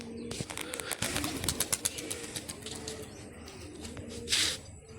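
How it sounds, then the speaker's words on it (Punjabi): Domestic pigeons at a rooftop loft coo softly in repeated low bursts, with brief wing flaps and scattered chirps nearby, and no one speaking. "ਅੱਜ ਬਸ ਅੱਜ ਚਾਰ ਪੰਜ ਕਬੂਤਰ ਕੱਢੇ ਆ"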